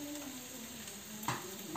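Spice mixture of turmeric, chili powder, cumin, coriander powder, salt and garam masala frying in a pan while being stirred, giving a steady close sizzle with a brief scrape of the spoon near the end.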